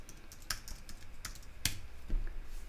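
Terminal commands being typed on a computer keyboard, a sparse, quiet scatter of key clicks with a few sharper taps, close by and with no talking.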